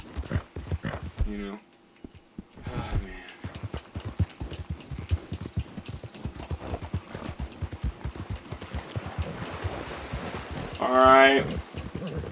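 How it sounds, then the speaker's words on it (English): Horses trot along in a video game featuring Arthur Morgan, their hooves clip-clopping in a steady close rhythm throughout, with a brief whinny near the end and someone talking over it. "Oh, horses."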